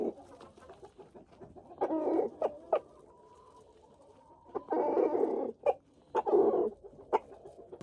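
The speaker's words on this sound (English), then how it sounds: "the chickens will clean all that stuff up" Backyard chickens cluck and squawk in irregular bursts while pecking at bread and vegetable scraps, several birds close by with louder flurries of calls between quieter pauses.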